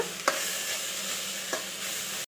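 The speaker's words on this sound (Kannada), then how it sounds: "ಒಂದು ಎರಡು ನಿಮಿಷ ಟೊಮೆಟೊ ಫ್ರೈ ಆಗಲಿ" Tomato fries with sprouts in a pan, a steady close sizzle with two brief clicks of a spatula against the pan.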